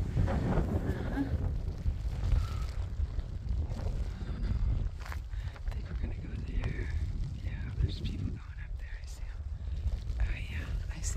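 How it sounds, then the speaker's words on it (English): Steady wind gusts roar and buffet the microphone throughout, with faint voices murmuring underneath, on the West Highland Way between Drymen and Balmaha, Scotland. "It's pretty windy"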